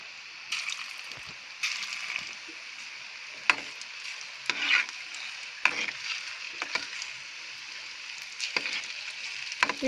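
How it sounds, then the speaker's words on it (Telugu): Small balls of carrot snack batter frying in hot oil, a soft continuous sizzle broken by bursts of bubbling and occasional stirring scrapes, close and fairly quiet with no voices. "ఆయిల్ కాగిన తర్వాత ఈ ఆయిల్లో క్యారెట్ స్నాక్స్ వేసుకుందాం"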